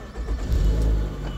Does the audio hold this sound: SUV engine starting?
yes